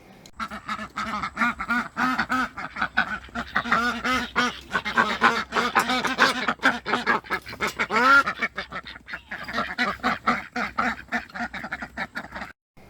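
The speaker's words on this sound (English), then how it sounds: "here's a recording of a bunch of the girl ducks, and you can slightly hear our drake." A flock of female Pekin ducks quacks loudly and continuously nearby, many overlapping calls with a few raspier, quieter quacks from a drake mixed in.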